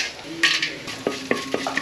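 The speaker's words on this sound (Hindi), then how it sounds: "अब इसको छौंक लगाएंगे" Spices sizzle in hot ghee as they are tempered for a home-cooked dish in Kerala, with a steady hiss punctuated by several short clinks and stirring knocks of a utensil against the pan.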